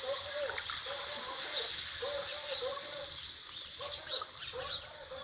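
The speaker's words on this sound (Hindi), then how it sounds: "इसमें हम 3 कप पानी की ऐड कर रहे हैं।" Water is poured from a cup into a pan of fried masala for vegetable noodles, a steady splashing rush that runs throughout with faint chirping mixed in.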